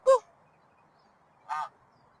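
A goose gives two separate honks outdoors, one at the start and one about a second and a half later, each short and fairly loud against a quiet background.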